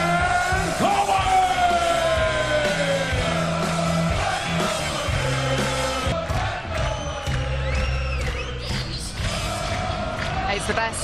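Darts arena crowd at a European Championship semi-final, a loud continuous roar of cheering, yelling and whoops, with music and an announcer's voice carrying over the din throughout.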